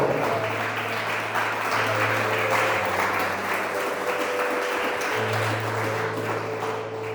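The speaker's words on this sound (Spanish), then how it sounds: "Y a su nombre, démosle un fuerte aplauso" A church congregation claps together in a full, sustained burst of applause during a Spanish-language sermon, with a low steady hum of music or instruments running underneath the clapping.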